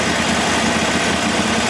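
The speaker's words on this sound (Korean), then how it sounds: "지금은 엔진 브레이크를 활용해서 가고 있는 거예요." Harley-Davidson Iron 883 motorcycle engine braking: a loud, steady, rumbling engine drone with constant vibration, heard up close while riding through a corner.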